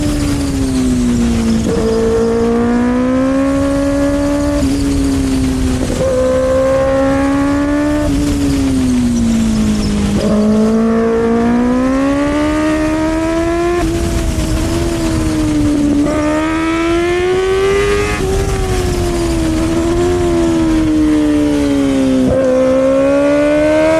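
A motorcycle being ridden, its engine note close and continuous, swelling and easing as the throttle rises and falls over the whole stretch.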